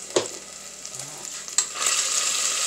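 Sofrito, or recaito, sizzles in a pot as it is stirred for a lentil, beef and bacon soup. Steady close frying hiss with a few scraping stir strokes, no voices.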